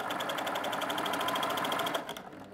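Baby Lock Primo coverstitch machine stitching steadily at a fast, even rhythm, close and loud and heard alone, then slowing and winding down near the end.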